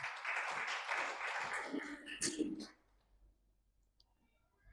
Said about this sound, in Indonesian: Tepuk tangan pada Tuhan kita